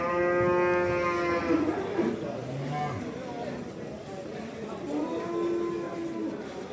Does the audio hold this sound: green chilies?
no